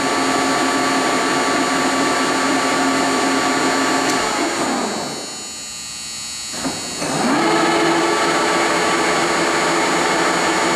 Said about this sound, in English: Starting to hear that spindle brake work real well.